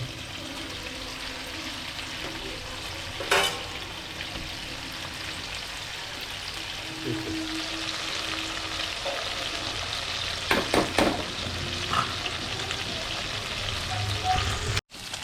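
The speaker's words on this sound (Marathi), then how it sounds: "मित्रांनो आपण फ्राय फिरवणार आहोत फ्रायचे तुकडे आहेत ना आपल्याला फिरवायचे" Barramundi fish pieces frying in a pan, a steady close sizzle with occasional clinks and scrapes as the pieces are turned, with no talk over it.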